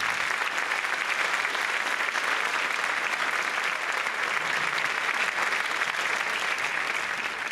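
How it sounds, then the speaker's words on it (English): A school concert audience gives a long, steady round of applause, dense, even clapping that carries on without a break at moderate loudness. "we can give them a nice loud round of applause"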